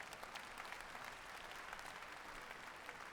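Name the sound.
thunderous audience applause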